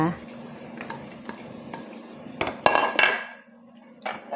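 Utensils stir and clink in a bowl as canned fish salad is tossed with fresh rice noodles, shallots and wood ear mushrooms in fermented fish sauce dressing; soft scraping and scattered clatters, with a louder burst of knocks midway.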